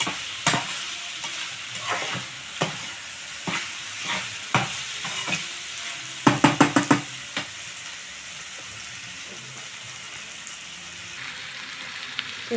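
Food frying in a pan with a low continuous sizzle, broken by a spatula tapping and scraping at irregular intervals and a quick burst of rapid stirring strokes midway.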